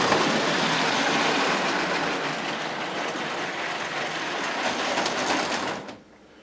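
Model train circling its track, a continuous close rattling and clicking roll that runs steadily for several seconds, then drops away abruptly near the end.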